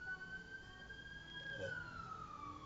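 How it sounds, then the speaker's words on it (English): A police car siren wails at a distance, its steady tone sliding slowly downward over a low rumble of background noise. "I'm hearing sirens."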